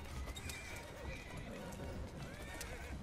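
Horse in Assassin's Creed Syndicate whinnying over steady clip-clop of hooves at a gallop, close and under faint background noise, ending with a short sharp sound.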